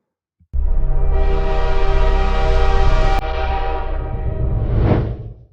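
A loud train horn blares steadily for several seconds as a Vande Bharat Express semi-high-speed train rumbles close by, the horn cutting off and the rolling rumble continuing.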